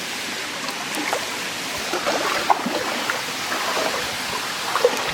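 A jungle waterfall in Costa Rica, a steady broad rush of falling water from a moderate distance, with faint occasional splashes and no voices.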